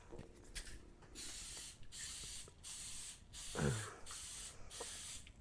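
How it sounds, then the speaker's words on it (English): Short repeated bursts of cooking spray hiss close by as muffin tins are coated, about six quick sprays separated by brief pauses. "I'm going to spray my muffin tins."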